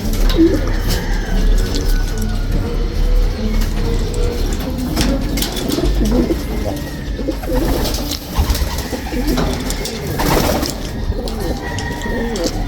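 Young racing pigeons coo in soft, repeated throaty calls close by, with light shuffling and fluttering in the background and no talking.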